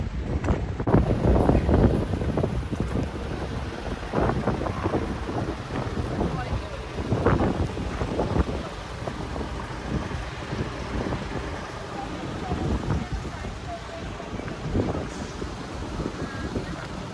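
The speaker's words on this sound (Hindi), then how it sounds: "खाना खाने में इतनी प्यारी हवा चल रही है सच में" Breeze blowing outdoors during a meal, a steady windy rush buffeting the microphone in gusts, loud and continuous throughout with no talk.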